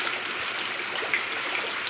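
Muddy rainwater that flooded a house pours steadily out, a dense even wash of flowing sound with no voices.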